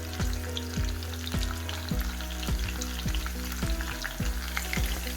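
Roughly chopped fresh garlic cloves sizzle and brown in a pan for a dry sprouts curry, a steady close-up frying crackle with a rhythmic low pulsing underneath and no talking.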